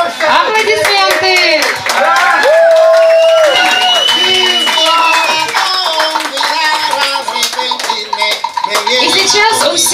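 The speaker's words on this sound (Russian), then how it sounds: "Аплодисменты!" Hand clapping and crowd noise at an Afro-Cuban rumba dance contest in Kiev, loud and steady throughout, with music and voices mixed in.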